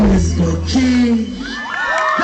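A crowd cheering and shrieking loudly at a live stage show, with high children's screams and whoops rising near and continuous throughout.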